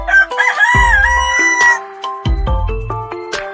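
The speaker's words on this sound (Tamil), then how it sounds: "சேவல் என்ன பண்ணும் காலையில குக்கரக்கோ கோ கத்தும்ல அதுதான் சேவல்" A rooster crows in loud, drawn-out calls, one early and another near the end, with lower bleating or animal cries mixed in between.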